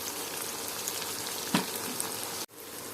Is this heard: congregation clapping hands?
no